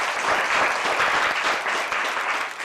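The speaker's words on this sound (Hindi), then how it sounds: "मैं चाहूंगी कि आप सभी ताली बजाएं" Dense, loud audience applause fills a hall at a talk, sustained and even throughout with no voices above it.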